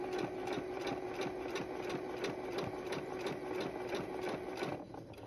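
Sewing machine stitching fabric for a skirt, a steady rapid needle chatter with a constant motor hum, running evenly up close before easing off at the very end.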